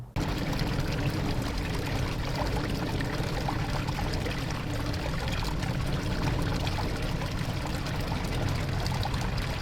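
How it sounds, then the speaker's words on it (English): Water pouring steadily over a small garden pond waterfall, a continuous broadband rushing splash, close and unchanging throughout. "I want more flow coming over that waterfall"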